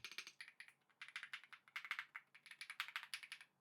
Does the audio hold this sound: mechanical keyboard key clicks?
yes